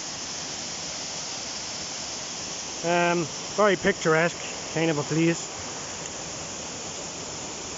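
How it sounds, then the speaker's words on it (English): Castle Shane Waterfall in Monaghan, Ireland, gives a constant broadband rush of falling water, with someone speaking briefly over it partway through. "This is Castle Shane Waterfall in Monaghan here"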